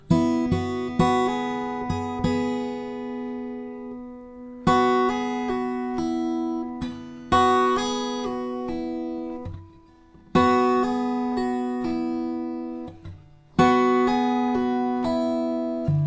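Plucked guitar string notes ring out with long, slowly fading sustain, with a few new attacks and slurred hammer-on pitch changes repeating in short phrases; played alone, clear and close, with no talking.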